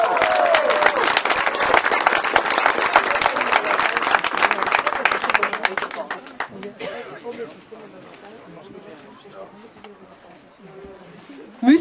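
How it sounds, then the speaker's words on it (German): An audience claps loudly for about six seconds in a hall at a centenary ceremony, the applause dense and sustained before thinning into scattered claps and murmured crowd chatter. "ein grosser Applaus hier zur Staatsratspräsidentin"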